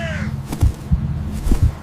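Crows caw loudly and close by in a quick run of about four harsh calls, with no voices over them.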